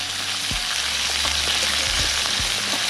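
Fresh minced garlic fries in a hot pan on an outdoor stove, giving a loud, steady close sizzle with a few soft stirring knocks and no speech.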